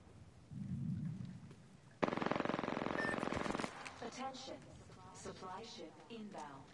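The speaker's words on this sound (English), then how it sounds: "He just started shooting." A teammate firing an SMG in a video game: a dense, rapid burst of gunfire lasting about a second and a half, loud against quieter background noise, followed by people talking.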